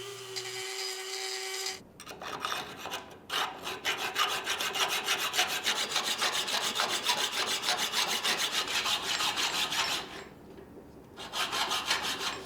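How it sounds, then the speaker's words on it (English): A Dremel with a carbide bit cuts a slot in a sword blade, giving a harsh, continuous grinding rasp up close that stops briefly a few times and then resumes. "I'm using my Dremel and a Carbide bit here"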